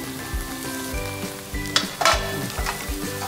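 Chili stuffing with coriander being stirred in a hot pan, a steady sizzle and frying crackle with a few sharper scraping strokes of the spoon, close and clear with no talk.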